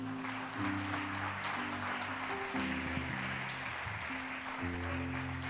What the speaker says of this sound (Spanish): Si le vas a dar un aplauso, dáselo a él.